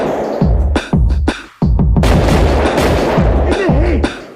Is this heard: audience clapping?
no